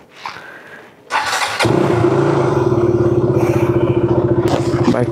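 A motorcycle engine cranks with a short burst of clatter, then catches and settles into a loud, steady running rhythm with an even, pulsing beat close by.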